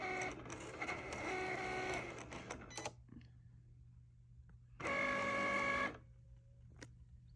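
A Cricut cutting machine slices through fabric on a mat that isn't sticky enough, giving a close mechanical whirring and buzzing of the moving carriage in two bursts, the first longer, with a short pause and faint clicks between them.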